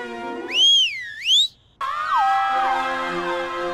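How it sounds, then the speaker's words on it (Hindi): A whistle blown to start a footrace in a Hindi television comedy, giving two loud warbling shrill blasts that rise and fall, followed by a bright ringing tonal clatter. "लेकिन सीटी बजाने के बाद ही भागना।"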